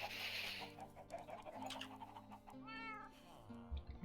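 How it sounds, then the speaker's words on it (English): A Minecraft cat gives a couple of faint meows against soft in-game music and clucking chickens, mid-distance and quiet. "I hear cat noises, but I don't know where the cat is."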